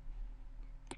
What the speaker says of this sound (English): And click next.